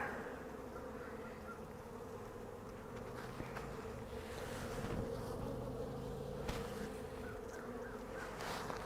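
Honey bees in a brood box during an early-spring hive inspection after smoking, a dense, steady close buzzing hum with occasional faint handling clicks and no talk.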